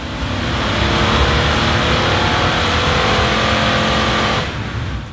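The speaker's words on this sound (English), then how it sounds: "we ran the Stormtrooper spec Lexus up on our all-wheel drive hub dyno and measured peak power at 260 horsepower" A supercharged Lexus LX570 with a 5.7 litre V8 on an all-wheel drive hub dyno, roaring loudly and steadily under load for several seconds before the engine note drops away.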